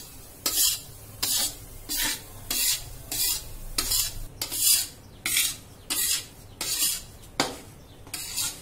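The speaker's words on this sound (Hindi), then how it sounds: "इसमें जो गांठें पड़ती है उसको अच्छे से हिलाते हुए निकाल दीजिएगा" Gram flour being stirred and roasted in a pan for besan ladoo, heard as regular scraping strokes roughly every 0.7 seconds, close and moderately loud, with a faint dry sizzle underneath.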